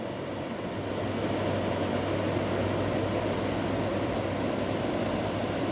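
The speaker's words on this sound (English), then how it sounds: "This is how the river should sound all the time." The Pemigewasset River in New Hampshire runs high on a rainy, foggy December day, giving a steady, broad rushing roar that holds evenly throughout, with no voices.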